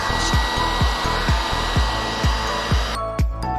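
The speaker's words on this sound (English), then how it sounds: "Place the seal on the spot with the hole and heat it with the hot air gun." Hot air gun blowing steadily while heating a self-adhesive repair seal over a hole in a saddle, a constant close airflow whir broken by faint soft thumps, then a few sharp clicks near the end.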